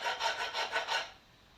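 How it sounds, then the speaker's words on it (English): Hand file rasping steel off a forged integral knife, six steady back-and-forth strokes close by, each a bright scraping rasp, then stopping into quiet. "So here I'm showing filing the material off."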